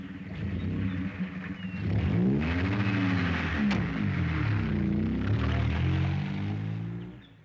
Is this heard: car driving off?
yes